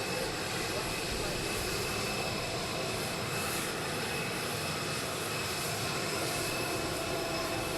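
Air Force One arriving in Florida with its jet engines roaring: a loud, continuous, steady whine and rumble that fills the whole stretch without letting up.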